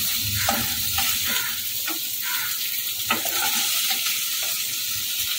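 Paneer cubes being lifted out of hot frying oil in a kadai, a steady close sizzle with scraping stirs and light clinks over a continuous hiss, no talking.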